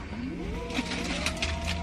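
The inside of a car while driving: a steady low road and engine rumble with faint rattles and soft knocks, no talking.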